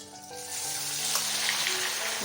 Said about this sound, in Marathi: आपलं तेल गरम झाले त्याला मी आता बंद करते आणि हे आलं जे आहे ते टाकते